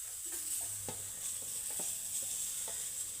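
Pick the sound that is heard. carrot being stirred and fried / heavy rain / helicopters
carrot being stirred and fried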